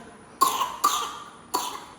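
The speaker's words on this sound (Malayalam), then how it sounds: "ചുമ വന്നു കഴിഞ്ഞാൽ ഭയങ്കര പ്രശ്നമാണ്" Three sharp, close coughs from one person, the first two in quick succession and the third after a short pause.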